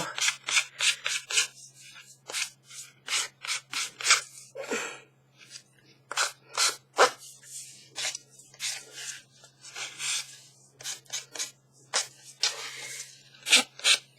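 Short, scratchy strokes of a worn nail file sanding a paper tag, repeated in uneven bursts with brief pauses, close up and no voices.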